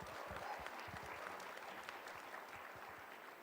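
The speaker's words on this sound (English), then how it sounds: "Round of applause for Vedant, please." An audience at a leadership conference gives a round of applause, dense and even clapping from a roomful of people that sounds somewhat distant and fades slightly over a few seconds.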